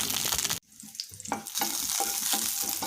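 Green chillies fry in oil in a pan with a loud, dense sizzle. After an abrupt drop, the sizzle returns with soft stirring sounds, close and with no talking.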